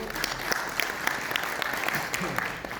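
Loud applause from an audience at a state conference in Rabindra Bhawan, Patna, dense steady clapping filling the room with scattered sharper claps standing out.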